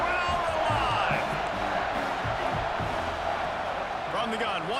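Steady roar of a stadium crowd cheering in a football video game during a third-down red zone play, loud and continuous for the whole stretch, with a commentator's voice running underneath.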